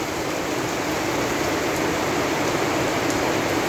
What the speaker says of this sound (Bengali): বৃষ্টির দিন বৃষ্টি হতেই পারে